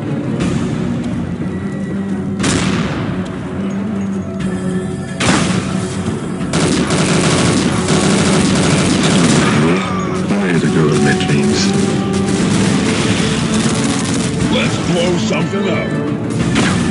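Heavy gunfire in Unreal Tournament 2004 with the Ballistic Weapons mod during a team deathmatch: sustained bursts and sharp cracks with crashes and booms, loud and continuous, while someone talks over it.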